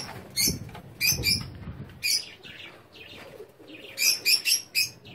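Pigeons call in short chirping bursts while wings flap briefly nearby, with some rustling in between, no voices.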